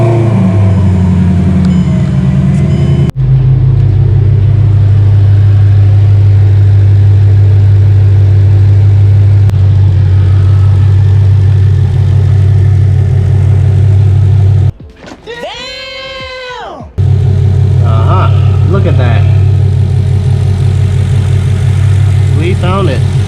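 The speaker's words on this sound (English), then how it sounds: "I'm gonna start the car and see if I can get coolant getting out of there." A Mercedes engine cranks, catches and settles into a steady, loud idle close by, holding an even drone for most of the stretch, briefly dropping away while someone speaks, then returning.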